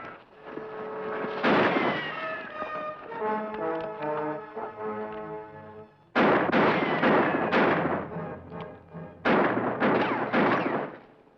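Loud gunfire in an old western TV episode, heard as several heavy shot blasts at intervals, with music-like tonal sound between them and no talk.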